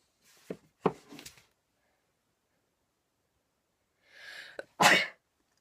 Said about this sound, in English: So yes, I have to sneeze.